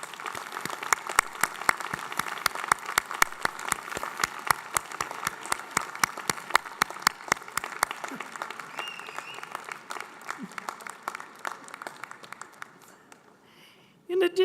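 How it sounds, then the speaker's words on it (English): Graduates and audience at a School of Public Health commencement ceremony applaud, with a sustained steady round of clapping that gradually thins into sparse claps and then quiets. "offer a round of applause to their supporters"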